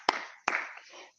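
Two sharp, loud claps from a church congregation ring out in unison about half a second apart, each trailing off in a roomy echo.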